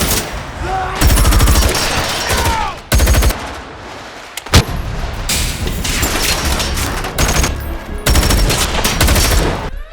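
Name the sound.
gunfire in the film Wrath of Man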